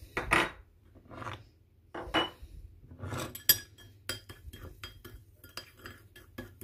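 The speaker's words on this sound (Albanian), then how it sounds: "I përzim në të tre përbërësit së boshku" Fresh lemon juice and olive oil being mixed in a deep dish for a face mask, heard as light clinks and scrapes of a spoon against the dish in scattered bursts, close and fairly quiet.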